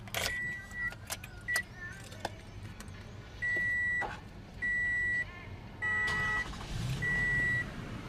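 A 2017 Toyota Sienna's 3.5-liter V6 runs at a steady low idle, a soft rumble under a series of loud, evenly spaced electronic beeps and a few sharp clicks.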